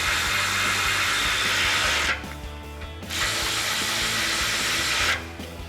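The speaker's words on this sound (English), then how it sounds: "we're going to be using a 13mm socket and a ratchet" A hand ratchet with a 13mm socket tightens the mounting brackets of Barricade TCX drop side step bars, giving two long runs of steady rapid clicking with a short pause between them, close and clear.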